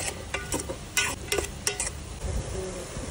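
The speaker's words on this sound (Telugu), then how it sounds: "చిన్న చిన్న కట్ చేసిన మష్రూమ్స్ ఇందులో వేసేయండి. వేసి ఇట్లా కలిపేయండి." Chopped mushrooms are stirred in a pan with a quiet sizzle, several sharp scrapes of a utensil against the pan at an uneven rhythm, close by.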